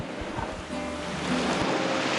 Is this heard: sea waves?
yes